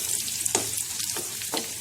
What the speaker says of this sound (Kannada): ದ್ರಾಕ್ಷಿ ಸ್ವಲ್ಪ ಹುಬ್ಬದಂಗೆ ಆಗಬೇಕು, ಆಗ ಚೆನ್ನಾಗಿ ಫ್ರೈ ಆಗಿರುತ್ತೆ ತುಪ್ಪದಲ್ಲಿ.